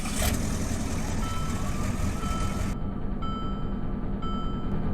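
2017 Stuttgart Jogger 2500 truck in the Greenville video game starting up, a loud steady engine rumble that runs continuously, with faint beeping tones near the end.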